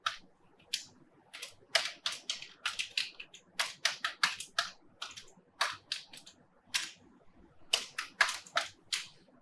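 Sharp, close keystrokes clatter in clustered bursts with short gaps as names are typed into a Python list on a keyboard during a pandas coding lesson.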